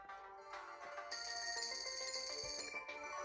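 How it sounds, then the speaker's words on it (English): Disney Heroes Battle Mode plays a bright, plucked banjo-like melodic jingle for Kermit, a short repeating musical phrase that sounds clear and alone with no talk over it. "Right before she starts to dance, you can hear Kermit. You can hear Kermit's banjo."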